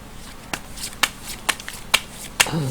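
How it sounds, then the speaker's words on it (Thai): Tarot cards being shuffled during a Thai daily horoscope reading, heard as about six sharp riffling snaps at roughly half-second intervals, close and fairly quiet with no talking. "ครบ 12ราศีแล้วเลยจะมาเสี่ยงไพ่ยิปซีดูเพิ่มเติมนะ"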